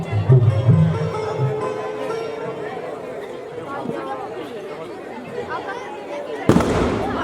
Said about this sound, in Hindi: ये उनकी ओर से तीसरा और अंतिम फायर है